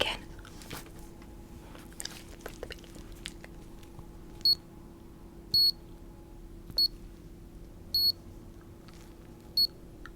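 A hearing test tool in a medical exam setting gives five short, high electronic beeps, spaced about a second apart, over a quiet room with faint handling sounds and no talking.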